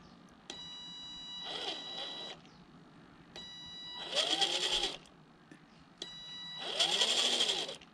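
Small electric motor of a budget RC rock crawler with rear steer, run on a Flysky FS GT5 radio, whirring in three bursts that swell and fall with the trigger, each carrying a high steady whine, alone with no talk.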